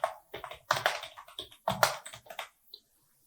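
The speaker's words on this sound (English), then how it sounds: "And the password we will select here, and I will type, for example," Password typed on a computer keyboard, a close, quick run of irregular key clicks in small clusters, then a last lone tap before silence.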